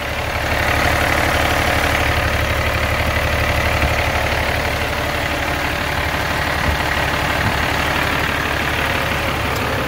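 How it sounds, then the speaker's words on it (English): The heavy engine of a 2011 International ProStar truck idles steadily and loudly up close, a constant low rumble with no breaks. "So this is the engine running."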